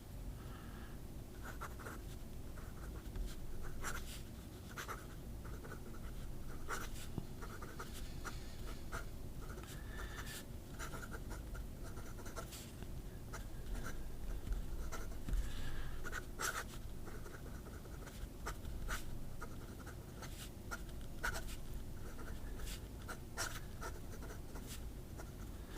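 Fountain pen nibs scratch and glide across paper for about 25 seconds, a quiet close-up scritching with short strokes and small taps and pauses, and no talking.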